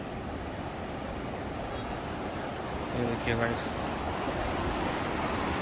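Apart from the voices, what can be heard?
flowing water in Himalayan valley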